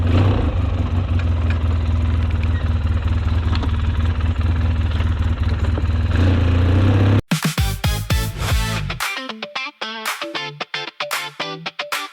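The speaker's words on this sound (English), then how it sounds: "Takes a little bit for the four-wheeler to get warmed up and get going" A four-wheeler ATV engine idles steadily and close while it warms up, a low, even rumble for about seven seconds. Then it gives way abruptly to unrelated rhythmic sound.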